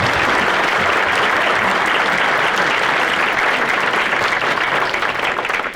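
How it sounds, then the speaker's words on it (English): An audience at a city of Batavia mayors' breakfast applauds Bill McGrath, a dense, steady wash of many hands clapping that holds loud for about six seconds and eases slightly at the end. "let's have you a round of applause"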